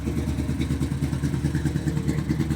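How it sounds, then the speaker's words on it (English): An abandoned Chevrolet C10 step-side truck, left sitting for nine years, runs rough with the choke on, as if missing cylinders: a loud, close, steady engine with an uneven, lumpy pulsing idle and no talk over it. "Almost sounds like it's running on 6 cylinders."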